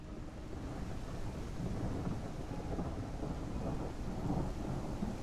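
Steady rain with rolling thunder from the Unreal Engine remake of the game Gothic 1, a continuous dense wash of rainfall under low rumbling that holds at an even level throughout with no talking.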